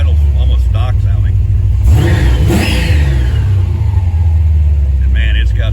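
A supercharged C4 Corvette with a ZZ3 5.7 engine and Edelbrock high-flow parts idles loudly, then takes a sharp throttle blip that swells and falls back to a rumbling idle, with someone talking over it.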